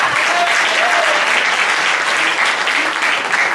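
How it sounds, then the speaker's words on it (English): A recovery community gathering fills the room with loud, continuous applause for volunteers, dense and steady from start to finish with a few voices faintly mixed in. "let's give them a round of applause"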